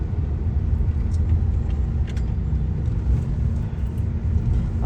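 Steady low road rumble from inside a truck travelling along a road in Ghana, a continuous broadband drone with faint higher clicks and no speech.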